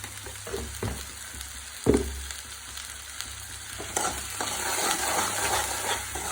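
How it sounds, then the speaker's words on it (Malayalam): Vegetables are sautéed with a little salt in a pan, with a soft, continuous sizzle under scraping stirs and a sharp utensil clatter about two seconds in. "അത് വഴറ്റാൻ ലേശം ഉപ്പിട്ട് കൊടുത്ത് അത് നല്ലതാണ്. വേഗം വഴണ്ടി കൊടുത്ത്"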